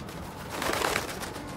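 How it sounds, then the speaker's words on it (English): Pigeons coo softly in the Spider-Man Miles Morales video game. A low, muffled cooing rises and falls over a broad background hiss, fairly faint and with no talking. "Hey, pigeon! Stop!"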